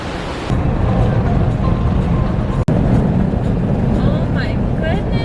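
A waterfall on a forest hike gives off a loud, steady rushing roar of falling water close by, continuous throughout, with a voice rising briefly over it near the end.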